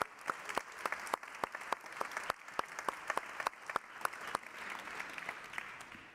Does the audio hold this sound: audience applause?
yes